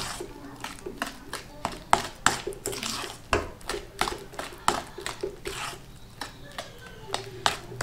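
Flour batter for Thai quail-egg sweets is mixed and folded in a bowl, giving rapid repeated wet squishing and scraping strokes in a steady rhythm, close by, under a woman's speech.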